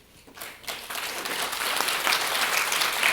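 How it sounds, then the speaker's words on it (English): Applause from a conference audience at the World Knowledge Forum 2024 in South Korea builds quickly and holds steady, a dense wash of many hands clapping at moderate loudness. "Please give them a big applause."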